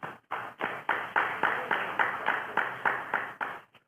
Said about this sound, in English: I think we should all give everyone here a round of applause for being here.